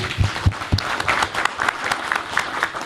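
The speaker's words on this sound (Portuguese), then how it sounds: "Uma salva de palmas, né?" Steady applause from a group of people, dense rapid clapping that carries on throughout without pause.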